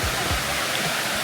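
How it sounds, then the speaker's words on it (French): A waterfall cascades near Chiang Mai, Thailand, in a steady, close broadband rush of falling water that fills the whole short stretch without any voices. "Donc là t'as encore des cascades"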